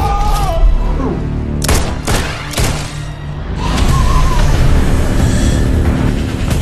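A burst of loud, overlapping gunshots and heavy booms from a film action scene, several sharp cracks clustered together amid rumbling explosions and a chaotic, dense soundtrack.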